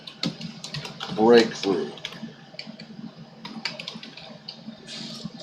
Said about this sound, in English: I'm going to type the back pain